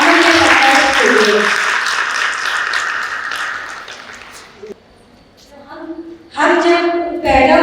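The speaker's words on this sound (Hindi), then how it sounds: "एक बार जोर से तालियां हो जाए आप लोग" Audience applause at a talk on mental health for police officers' wives, a dense burst of clapping under a speaker's voice that fades midway, followed by more talking.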